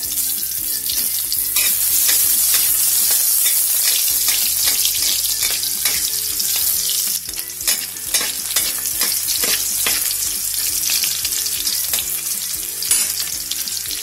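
Shallots sizzle loudly in hot oil in a pan while being stirred, a continuous crackling fry with scraping stirring strokes, close and alone, as the first step of a simple beef stir-fry.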